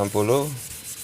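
A short, close rubbing scrape of 360-grit sandpaper across body filler on a car panel, one quick stroke fading into quiet.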